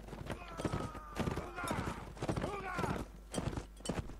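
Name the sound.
horse hooves clip-clop in a video game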